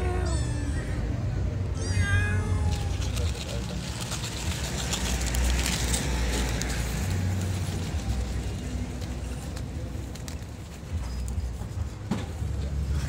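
A few cat meows, likely from stray cats living among rubbish heaps in the Barranco district of Lima, Peru, rise briefly near the start over dense, loud street and background noise.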